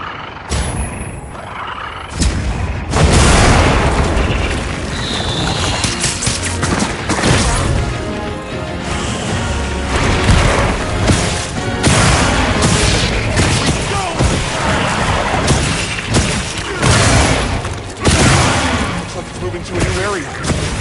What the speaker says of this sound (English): Set a bomb.